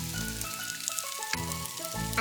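Deep-fried tofu, leek and ginger sizzle steadily in a hot pan, a dense continuous frying hiss with faint crackles and no voices.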